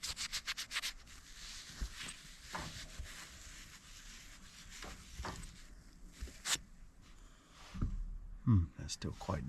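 Dirty HVAC furnace part scrubbed by hand with a Scotch-Brite pad, giving intermittent rough rubbing strokes at close range, with a few sharper scrapes and handling knocks between them.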